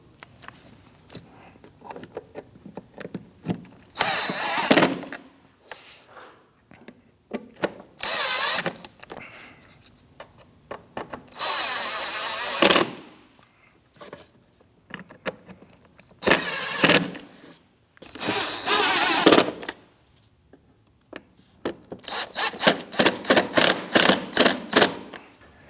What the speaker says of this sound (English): Now let's tighten our screws.